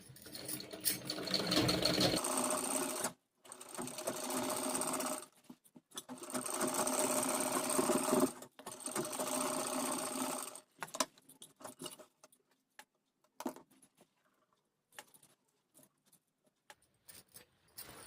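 An electric sewing machine stitches a fabric strip along a blouse neckline in three long, close, whirring runs, then several short stop-start bursts that fade to quiet.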